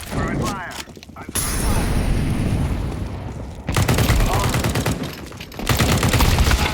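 Rapid gunfire in a first-person shooter video game, dense bursts of automatic fire and shots filling the clip with brief gaps, loud and close, with a player's voice talking over parts of it.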